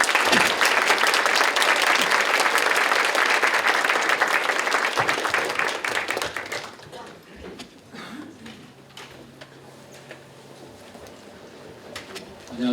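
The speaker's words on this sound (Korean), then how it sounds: "큰 박수로 맞이해 주시기 바랍니다" Audience applause welcoming former party leader Han Dong-hoon onstage at a youth talk show at Kyungpook National University, loud sustained clapping for about six seconds that fades into quieter room noise with scattered claps.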